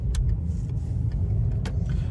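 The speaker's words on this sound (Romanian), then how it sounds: "rulmentul se aude destul de urât pe față" A VW Golf 5 with a worn front wheel bearing drives along, giving a loud, continuous low droning rumble from inside the moving car, with a couple of sharp clicks over it.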